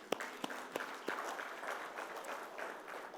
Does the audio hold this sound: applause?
yes